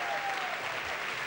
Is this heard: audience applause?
yes